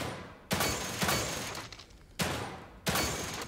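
Repeated gunfire bursts from the survival horror video game The Evil Within 2, loud, sharp onsets followed by sustained noisy decay, four shots spaced roughly a second apart with no talk over them.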